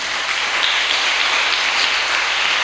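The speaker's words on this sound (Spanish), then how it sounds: "Le podemos dar un fuerte aplauso al Señor en esta noche." Steady applause from a church congregation, a dense even wash of clapping that holds at the same level throughout with no voices on top.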